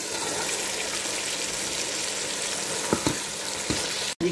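Minced meat keema sizzles and fries with softened tomatoes in a pan for a Balochi matar keema salan, a steady loud crackle with a few brief stirring scrapes near the end.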